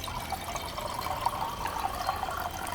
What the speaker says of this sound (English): The bottom part is the water chamber, which you might have guessed from the name is where we put our filtered water.